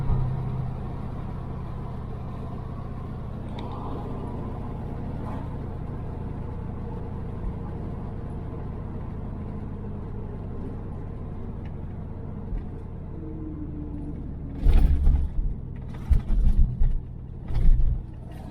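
A 1978 Dodge Aspen R/T engine drones steadily at cruise with a low, even rumble, then near the end gives a few sharp louder bursts and thumps as it kicks down into second gear.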